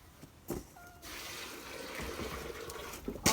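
Water is poured over animal feed to soften it, a quiet steady gush that starts after a few soft knocks and runs to the end, fairly faint and close.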